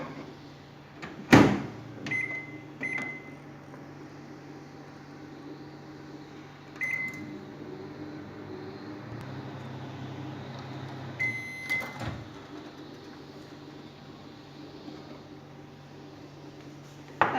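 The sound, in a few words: microwave oven running on high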